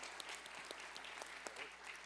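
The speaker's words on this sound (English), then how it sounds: "So let's give them a great round of applause." An audience at a State of the City address applauds steadily, a dense patter of many hands clapping at moderate volume throughout.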